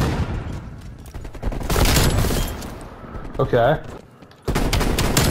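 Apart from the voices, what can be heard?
M16 rifle gunfire in the video game Call of Duty: Cold War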